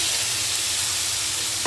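Tempered spice tarka poured into a pan of scrambled egg, giving a steady broadband sizzle of hot oil that holds evenly throughout, with a sharp clatter near the end.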